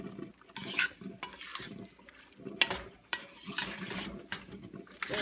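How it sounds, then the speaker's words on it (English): Crab cake mixture being mixed and broken into smaller chunks in a bowl: soft, wet, irregular scraping and squelching strokes, close and fairly quiet, repeating steadily. "Get it good and mixed up. I'm breaking those chunks just a little bit smaller"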